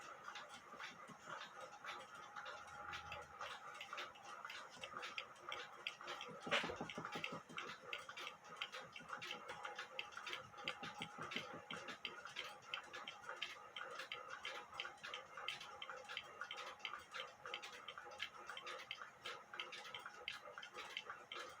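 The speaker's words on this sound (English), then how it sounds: "It sounds pretty good, but the clock keeps stopping, and I think I need to polish up the escapement." A repaired granddaughter clock ticking in an even, steady rhythm, quiet and close in a still room, with a brief soft knock partway through.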